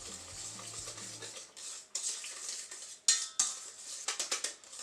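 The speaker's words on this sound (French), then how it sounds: "Donc maintenant on va mélanger tout ça à l'aide du fouet." A whisk clatters and scrapes around a bowl of sweet potato brownie batter in short irregular bursts, close and fairly quiet, with brief pauses between strokes.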